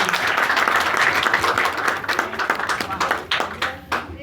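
An audience at a Hindi poetry gathering in a school applauds, a loud dense burst of clapping that gradually breaks into scattered claps, with voices mixed in.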